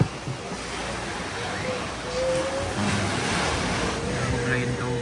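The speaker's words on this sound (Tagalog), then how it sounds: "Maalon-alon ng dagat." Continuous rush of ocean surf with wind buffeting the microphone, a steady outdoor wash throughout with faint tonal sounds.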